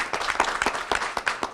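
Applause from the audience at a youth jobs press conference, a short burst of clapping with distinct claps standing out, moderately close and alone.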